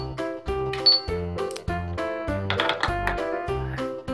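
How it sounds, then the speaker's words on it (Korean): Toy cash register at a pretend checkout, giving a rhythmic series of electronic beeps and clicky button tones in a repeating musical pattern, close and fairly loud, with no talking. "네, 그러면 계산대를 좀 찍을게요."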